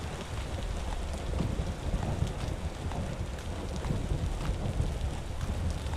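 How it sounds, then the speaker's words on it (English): Rain in the survival video game Vintage Story falls steadily, a dense, even rushing wash with soft wind under it, continuous and fairly loud with no talking. "I like all this rain."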